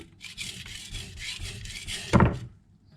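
A blade is drawn in steady, rhythmic rasping strokes across a coarse 220 grit Naniwa Gouken whetstone, close and fairly soft, ending in a louder scrape or thunk before quiet.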